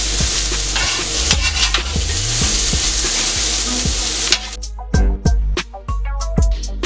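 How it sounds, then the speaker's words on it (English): Steaks searing in a hot pan, a loud, steady sizzle that fills the first few seconds, then breaks into sharp clinks and scrapes of a utensil against the pan as the meat is turned over. "Alright, so the steaks are on. I'm going to flip them over."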